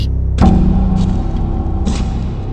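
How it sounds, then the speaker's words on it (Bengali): Slow, heavy footsteps land as a few separate dull thuds at uneven intervals against a quiet background, heard alone with no speech. "পায়ের শব্দ না?"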